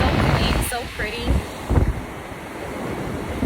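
Ocean surf washes steadily onto a clean beach under gusting wind that buffets the microphone, with a couple of brief louder swells; faint voices can be heard in the background.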